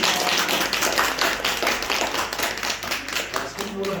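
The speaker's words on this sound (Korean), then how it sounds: "박수 한번 다시 하겠습니다." A congregation at a Korean Sunday church service claps together, a brisk run of rhythmic, fairly loud hand claps with faint voices mixed in.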